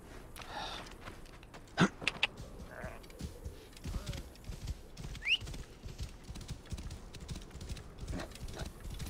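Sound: horse running off in Assassin's Creed Origins video game

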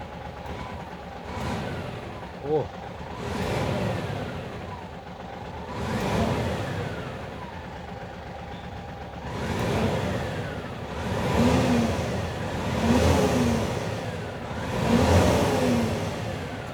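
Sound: engine revving inside a twelve-wheel dump truck

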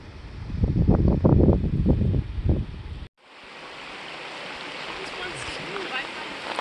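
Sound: creek flowing in a Wyoming meadow

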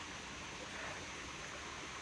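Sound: flowing stream water at the foot of a hill

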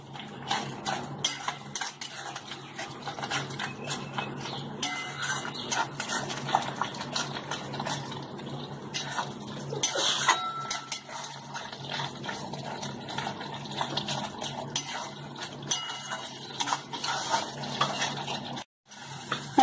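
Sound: stirring and sautéing egg curry masala in a pan

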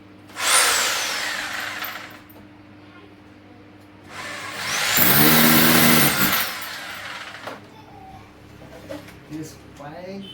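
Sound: power drill drilling holes into ceiling for gypsum ceiling

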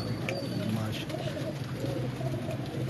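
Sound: pigeons cooing on rooftop

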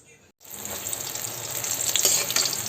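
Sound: brinjal frying in a pan

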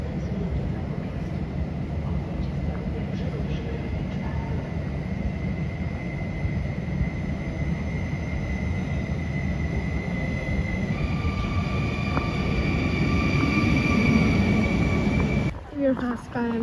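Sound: train arriving at Warsaw station from Modlin

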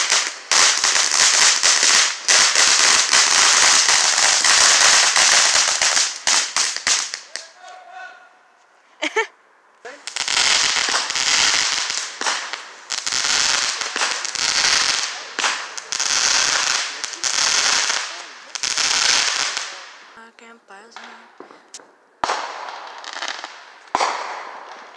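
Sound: fireworks and firecrackers on the 4th of July

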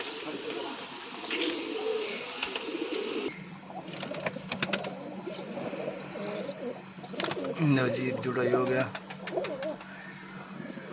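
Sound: black pigeons cooing

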